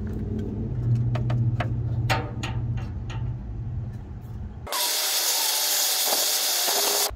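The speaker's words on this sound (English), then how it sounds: "i'm gonna heat it up using this torch" Handheld torch heating a seized temperature sensor nut on a Freightliner Cascadia truck exhaust, a loud steady roaring hiss that starts abruptly partway through after some clanking of tools and continues to the end.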